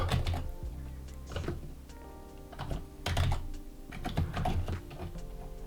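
Code is typed on a computer keyboard in quick, uneven bursts of clicking keystrokes with short pauses between runs, close-miked and without speech.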